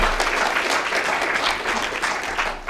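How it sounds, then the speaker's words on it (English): Conference audience applauding youth health champions, a steady dense round of clapping from a crowd held at an even level for the whole stretch. "Give them another small round of applause"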